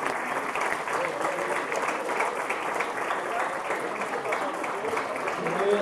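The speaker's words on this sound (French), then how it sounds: "on peut les applaudir." A cabaret audience applauds the crew, a steady moderate patter of many hands, even throughout with faint voices underneath.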